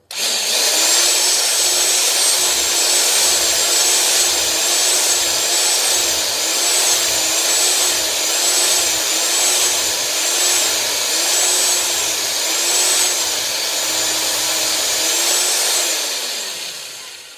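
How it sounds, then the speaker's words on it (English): A slow, torquey power drill bores a metal Dana 80 axle spindle with cutting oil, running continuously with a slightly wavering, pulsing whine, close and steady for the whole stretch before winding down. "A very torquey, slow drill."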